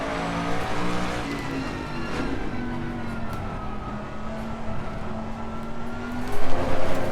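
A Jaguar G3 race car in Assetto Corsa Competizione at Donington Park, its engine droning steadily at high revs with a rising note and a louder surge near the end, no voices present.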